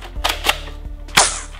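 A Nerf Echo Elite 2.0 blaster gives a few sharp, close plastic clacks as it is primed, then a single louder snap as it fires, with no talking.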